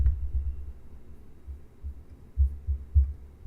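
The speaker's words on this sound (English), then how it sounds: "make the effect which comes from heartbeat" A heartbeat sound effect, low muffled thumps in an uneven double-beat pattern, fairly soft and alone, with deeper pulses standing out toward the end.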